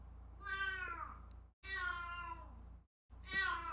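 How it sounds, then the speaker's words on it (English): A female house cat cries for attention with three drawn-out meows, loud and close, separated by short pauses over a low steady hum. "My cat's deciding to be annoying. Like she's gonna cry like that because she knows I'm streaming."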